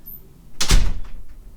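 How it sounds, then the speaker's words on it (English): A door closes with a single loud, close thud and a brief rattle that fades quickly. "You hear the door."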